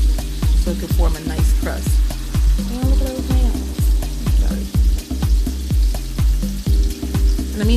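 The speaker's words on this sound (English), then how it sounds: "And it's coated in oil, and we're going to add our steaks." Steaks sear in a very hot, oil-coated pan, giving a loud, close sizzle broken by a rapid stream of sharp crackles and pops.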